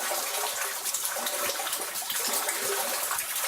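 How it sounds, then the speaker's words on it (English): Water rushing steadily through a mine passage, a continuous close, loud broadband gush with a few small splashes and no talking. "this is where all the water comes through"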